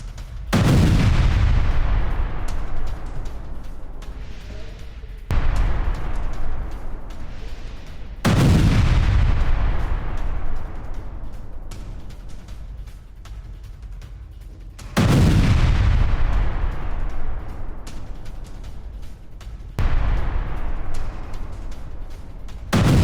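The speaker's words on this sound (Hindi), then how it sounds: "बेलगोरोड के रिहायशी इमारत से टकराया सुसाइड ड्रोन।" Suicide drone attack on a residential building in Belgorod: a series of loud, booming explosions, five heavy blasts spaced several seconds apart, each followed by a long rumbling decay and echoing debris noise.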